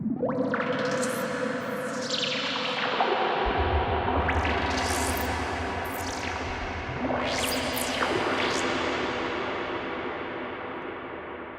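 FM glitch sample run through a bandpass filter and heavy hybrid reverb, producing watery rising and falling pitch sweeps that smear into a long, echoing electronic wash over a low sustained rumble.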